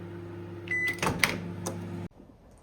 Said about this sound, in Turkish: Bunu mikrodalgaya atacağım.